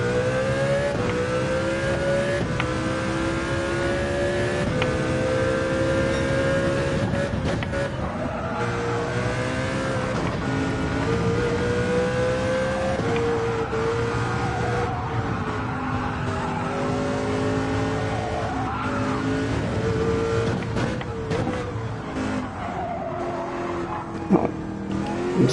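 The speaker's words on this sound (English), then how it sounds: "I think the Lexus is the car I drive in this." Lexus race car in Gran Turismo 7 during a Nations Cup online qualifier, its engine holding a loud, steady high-pitched drone with pitch sweeps through gear changes and brief tire squeals, no talk.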